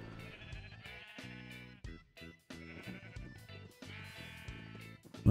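Repeated sheep bleats from a Minecraft-style video game, several wavering calls in close succession, fairly loud and clear with short gaps between them.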